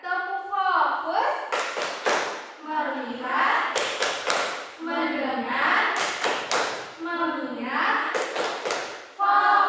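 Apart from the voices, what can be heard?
children doing a rhythmic clapping routine in class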